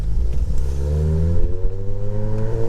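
A car with a full CTS cat-back exhaust and no catalytic converters revs hard, its deep, steady engine drone rising and falling close by with a slight clatter, no voices over it.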